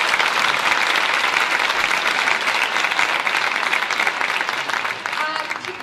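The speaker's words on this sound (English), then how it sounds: "Round of applause." A concert audience at a school district's all-district music celebration applauds continuously, a dense, loud wash of clapping that holds steady throughout with only a slight easing near the end.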